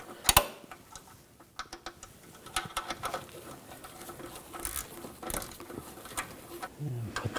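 An 18mm ratchet wrench clicks in quick bursts while starting a bolt on the front lower control arm of a 2004-2009 Audi A4 Quattro, with close metallic ticks and handling noises.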